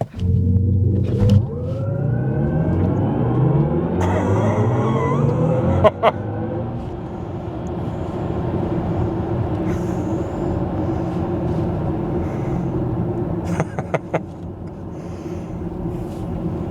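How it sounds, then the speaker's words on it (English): A BMW iX M60 electric car doing a launch control start in sport mode, a synthetic rising drive tone swelling over a heavy rumble and road roar, loud and continuous, with a few sharp clicks along the way. "we'll do a launch control start here, just to give you the full effect"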